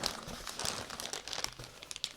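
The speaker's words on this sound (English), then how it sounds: "And some German newspaper here. Just throw them to the floor." Sheets of German newspaper packing are crumpled and crinkled close by, in a run of crisp rustling bursts of varying loudness with no talking.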